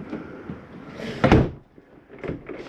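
An RV bunk room door in a 2024 Catalina Legacy 293TQBSCK travel trailer swings shut for travel, giving one firm mid-clip thud amid quiet room noise, with a softer bump near the end.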